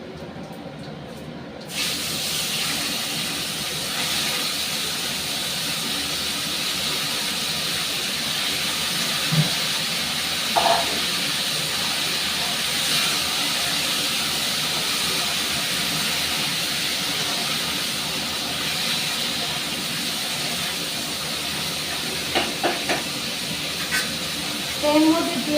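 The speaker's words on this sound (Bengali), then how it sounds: "গরম জলে ভিজিয়ে রাখা ফুলকপি আর আলু এবার এটাকে আমি ভাজবো" Cauliflower and potatoes that were soaked in hot water fry in hot oil with five-spice seeds, giving a loud, steady sizzling hiss that starts abruptly and continues throughout, with a few faint clinks.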